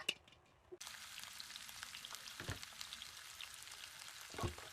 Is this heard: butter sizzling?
yes